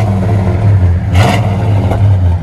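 A 1971 Chevy Chevelle SS with true dual Flowmaster Super 10 exhausts rumbles loudly at close range, rising in a couple of short revs over a steady throaty idle, with no talking.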